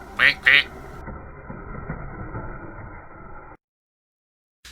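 A duck gives two quick loud quacks at the start, followed by a steady hum of background noise that cuts off.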